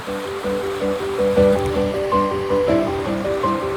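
Steady rushing water of the Monardilla river in the Sierra Bermeja foothills, a continuous close flow during a river crossing on a hiking route, with no speech, only the constant churn of the current.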